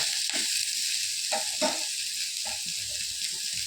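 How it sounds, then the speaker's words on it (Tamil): Carrots sauté in a pan on low heat, a steady close sizzle with a few soft stirring clinks and scrapes breaking through now and then. "சிம்மில் இருக்கட்டும் நல்ல கேரட் வதங்கட்டும்"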